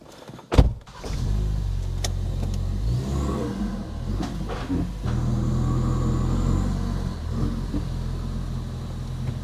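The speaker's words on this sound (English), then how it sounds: "Can't daily a car like that, it's too loud." Loud Ford Focus RS engine idling and rumbling steadily at close range, a deep throbbing drone with a sharp blip near the start and small swells in revs.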